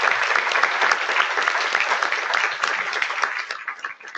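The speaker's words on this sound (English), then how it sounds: "everybody give them a round of applause for all the work that they have" Audience at the DMUC 2018 opening plenary session applauds warmly with dense, even clapping that holds steady, then starts to thin out toward the end.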